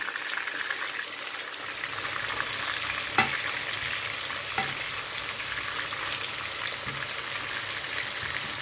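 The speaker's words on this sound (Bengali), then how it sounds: "এই যে এখানে আমি মাছটা ভেজে নিচ্ছি।" Fish frying in a pan gives a steady, dense sizzle throughout, close and even, broken by a couple of light knocks from a utensil.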